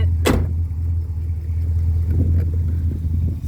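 A 1966 Chrysler Windsor's big-block V8 idling with a deep, steady rumble, close and loud, with a brief sharp noise near the start.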